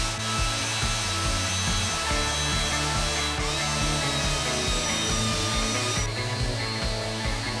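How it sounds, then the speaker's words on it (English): Pallet wood for a bellows being sanded smooth, a loud continuous abrasive rasp with a steady back-and-forth grinding texture and brief changes in pitch. "Give it a bit of a level sand."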